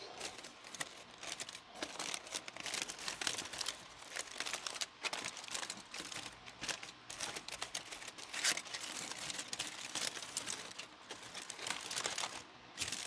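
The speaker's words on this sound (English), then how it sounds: "let's go ahead and unwrap our ribs" Foil around smoked ribs from a Pit Barrel Cooker is unwrapped nearby, giving continuous crinkling and rustling with scattered sharp crackles over about thirteen seconds and no talk.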